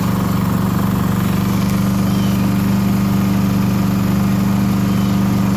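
A portable generator engine, just started with its electric starter and choke, runs at a steady, even idle with a constant low drone and fine, rapid pulsing, loud and close, with no voices.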